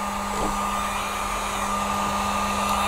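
Heat gun warming vinyl wrap film on BMW F30 interior trim: a steady, close blowing roar with a constant motor hum, unbroken throughout.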